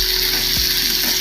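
Upma ingredients sauté with coriander in a pan, a steady, fairly loud hiss of frying throughout with a faint scrape of stirring partway through.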